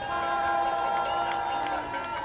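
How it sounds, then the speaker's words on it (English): Rally crowd in Birmingham cheering and applauding volunteers, a dense continuous roar of voices and clapping held at a steady level throughout the short burst. "Can we have a round of applause for all our volunteers?"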